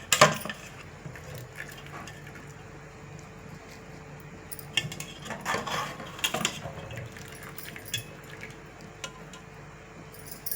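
Rice is spooned in layers over chicken pieces in a pot for chicken biryani, giving soft scattered scoops and wooden scrapes with a few louder clatters of utensil against the pot, close by and without talk.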